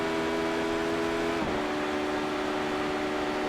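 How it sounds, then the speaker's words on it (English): A racing game car accelerates hard through fifth and sixth gear, a loud steady engine drone with a quick shift dip midway before the pitch settles and climbs again. "accelerating hard now through fifth and sixth gear"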